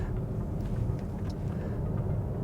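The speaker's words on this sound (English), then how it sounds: "this is a bit uphill road, and you can hear the roar of the engine." A Nissan Qashqai hybrid with 190 horsepower drones steadily while climbing an uphill road, its engine noise a low continuous roar heard from inside the car with no talk.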